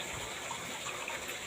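Water pours and splashes steadily for a moment while chicken is being washed during cooking, a soft close gush with no talking.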